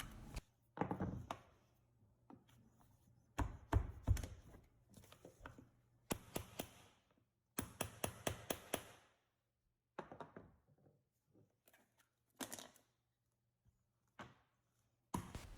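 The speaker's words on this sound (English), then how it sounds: "just grab the chisel and take this whole center section out of there" Chisel knocking out the center section of a damaged hardwood floor plank: irregular bursts of sharp taps and thunks, some in quick rapid runs, separated by short quiet gaps, close and moderately loud.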